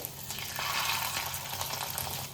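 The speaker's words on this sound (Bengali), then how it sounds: "এভাবে সমস্ত বড়াগুলো আমি ভেজে নেব" Small fish roe fritters frying in hot oil: a steady, close crackling sizzle with fine popping bubbles, moderately quiet and unbroken, with no talking.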